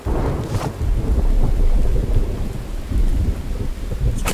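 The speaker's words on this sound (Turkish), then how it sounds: "Birincisi yağmur yağıyor." Heavy rain pours down steadily in the video game The Infected while low thunder rumbles and wind buffets the microphone, with a couple of sharper crackles.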